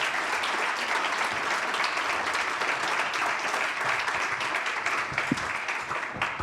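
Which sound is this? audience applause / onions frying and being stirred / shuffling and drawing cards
audience applause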